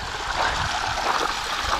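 Geothermal hot water flows from underground on an Icelandic mountainside, a close, steady gurgling rush with splashing bursts, continuous and fairly loud.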